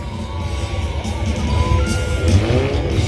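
Rally car number 9 at the Antsla scrap car rally, 2019, driving with a steady engine drone and some tire noise, continuous and moderately close throughout, with faint crowd sound behind it.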